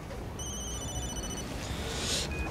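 A telephone rings with an electronic trill that sounds twice in quick succession over a steady background noise, fairly clear and close.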